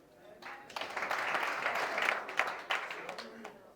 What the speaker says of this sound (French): cette famille mérite une bonne main d'acclamation.